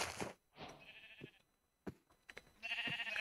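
Sheep in Minecraft give short bleats in a few separate bursts, mixed with brief clicks and game sound effects, fairly quiet overall.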